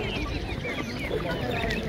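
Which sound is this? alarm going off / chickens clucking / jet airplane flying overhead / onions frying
chickens clucking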